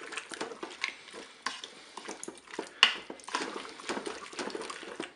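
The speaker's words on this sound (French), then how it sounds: "je vais ajouter maintenant bien tout simplement ma crème fraîche et la cuillère à soupe de moutarde. On mélange." Potatoes are being stirred with crème fraîche and mustard in a Cookeo multicooker, giving repeated close scraping and clinking spoon strokes over a soft, wet background sizzle, with no talking.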